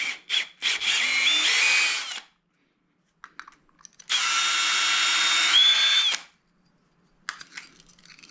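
A power drill with a pipe-cleaning attachment whirs in two sustained bursts of about two seconds each while cleaning a pipe end for a SharkBite fitting, with short clicks and brief spins between them, close by.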